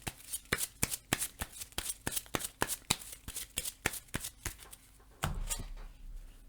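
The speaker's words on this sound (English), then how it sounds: "I'm going to draw a card now" Playing cards for a Marvel Legendary game are drawn and shuffled at close range, a fast run of sharp, crisp snaps that ends in a duller slap as the deck settles. No one talks.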